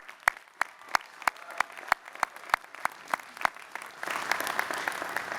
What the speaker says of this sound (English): So please help me applaud.